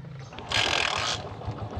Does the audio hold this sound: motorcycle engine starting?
yes